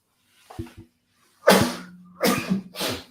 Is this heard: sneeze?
yes